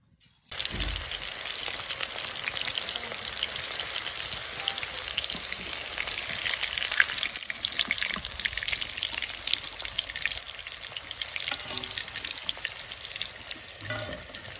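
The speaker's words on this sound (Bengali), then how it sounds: "প্রথমে আমি চিকেনগুলো এভাবে ভেজে নেব।" Chicken pieces frying in hot oil, a steady dense crackling sizzle that continues evenly throughout, fairly close, with no voices.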